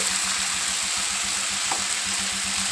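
Raw banana curry with chili powder and salt being stirred in a hot pan: a steady, close sizzle runs throughout with a repeated low scraping rhythm from the stirring.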